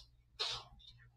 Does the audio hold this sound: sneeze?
yes